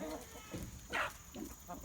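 Hens on a farm cluck softly in short, irregular bursts, a few faint nearby calls over low background noise.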